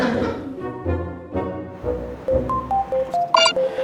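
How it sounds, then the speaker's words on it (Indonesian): Telephone keypad tones sound in a quick series of short, evenly spaced beeps, each at a different pitch, dialing a call, preceded by a brief burst of talk. "Ya udah kalau gitu Poppy telepon Mbak Marsha aja"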